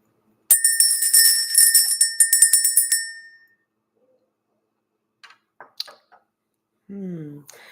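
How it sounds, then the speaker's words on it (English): A ritual bell rung to clear the energy before a spiritual reading, sounding as a bright, ringing burst of repeated strikes for about three seconds, then fading. Faint clicks and a brief voice follow later. "Let's ring the bell."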